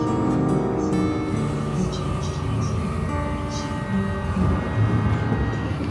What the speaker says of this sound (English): I'm watching a train pass in Bangkok